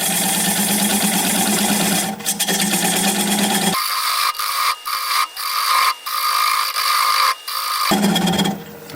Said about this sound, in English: I'm going to grab a 3/8 inch standard grind bowl gouge and commence to removing that tenon.